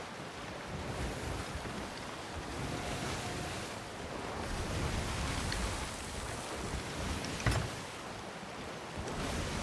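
In Sea of Thieves, a sloop under sail moves through rushing wind and steady surf that wash continuously across the whole stretch, loud and close, with one brief knock near the end and no talk.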